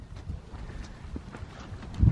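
A horse's hooves clop in a loose, uneven rhythm at moderate distance, with a heavier burst of thuds near the end and no talking over it.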